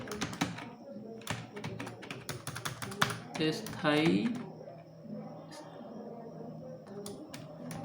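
Someone types on a computer keyboard to fill in an NID permanent address change form, with quick bursts of clicking keystrokes close by, a short vocal sound partway through, then lighter, sparser taps.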